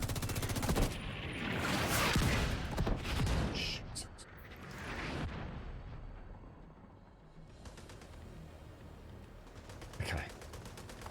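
Mortar strikes in The Division 2: a dense run of booming impacts and rapid gunfire, easing into a quieter rumble before another burst of shots, with voices talking through the action.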